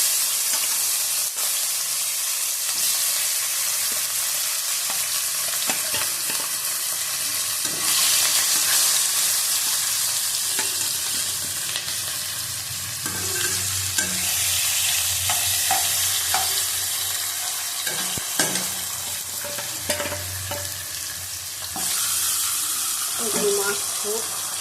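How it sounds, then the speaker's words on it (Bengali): Fish frying in oil in a wok, a steady loud sizzle running the whole time, with occasional clinks and stirring noises from the pan. "এদিকে কড়াই বসিয়ে দিয়েছি। এদিকে মাছটা দিয়ে দিলাম।"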